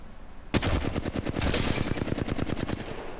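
A sustained burst of rapid automatic weapon fire in Apex Legends begins abruptly and rattles on steadily for about three seconds, loud and close with no talking.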